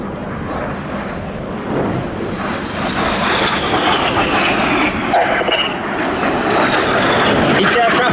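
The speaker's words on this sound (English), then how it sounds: "Each aircraft passed with only 30 metres, 100 feet between themselves, pulling 6G" Red Arrows jets pass overhead at an air festival display, a loud, sustained roaring rush that swells and shifts in pitch as the aircraft fly by, with commentary heard over it.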